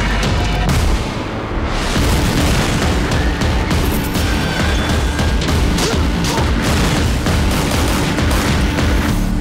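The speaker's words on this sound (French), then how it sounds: "De grosses explosions ?" Heavy, continuous booming explosions and gunfire-like bursts fill the mix in a Watch_Dogs video game trailer, loud and dense with rumbling low end and crackling debris throughout.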